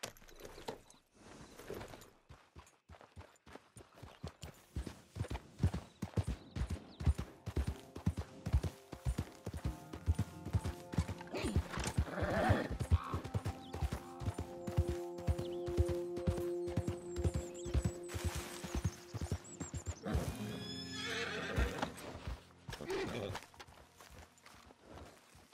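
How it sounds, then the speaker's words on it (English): Horse hooves clop in a steady running rhythm in Red Dead Redemption 2, getting louder, with a whinny, shouted voices and game effects mixed in. "Horse!"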